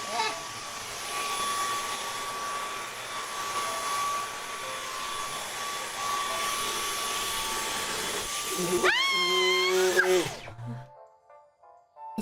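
A vacuum cleaner whines steadily at close range for several seconds, then its pitch swoops and wavers before it cuts off abruptly into near silence.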